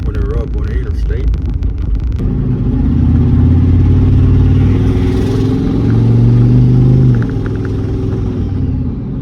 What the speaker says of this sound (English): Let's see what's going on for open her up on the interstate